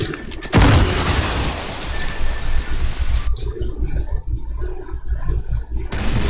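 A grenade goes off in a video game with a loud broadband boom near the start, followed by a dense, sustained roar of gunfire and debris that cuts to a lower rumble of continued shooting.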